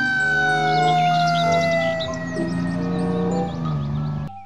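An electronic siren wails in warbling sweeps over a loud tonal background, like a toy fire truck siren, close and continuous before cutting off.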